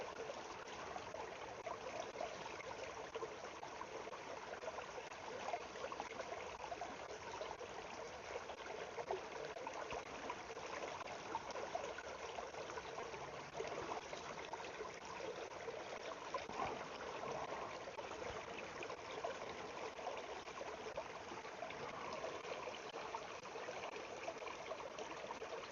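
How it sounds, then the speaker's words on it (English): Water treated with bleach and peroxide for purification, bubbling and fizzing with a steady, faint hiss and trickle that runs unbroken throughout. "Still bubbling. Still fizzing."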